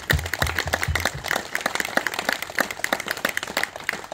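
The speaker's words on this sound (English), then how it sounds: "I think we should all give them a round of applause for their sacrifice." Applause for volunteer firefighters at a book launch, with scattered claps of moderate strength forming an uneven patter across the whole stretch and a few lower thumps near the start.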